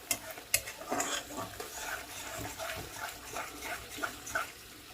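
Onion masala stirred and fried in a pan with splashes of hot water for a Bengali jackfruit curry, giving steady scraping and soft sizzling with a few sharper clanks, moderately close, with no talking.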